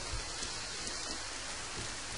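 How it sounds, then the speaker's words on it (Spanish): In the survival video game The Forest, rain hisses steadily as a dense, even wash with no pauses. "Está lloviendo."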